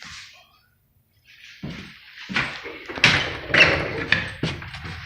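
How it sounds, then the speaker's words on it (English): A house door opens with a run of knocks, thuds and rattles, close and fairly loud, after a brief silence. "when you open the door"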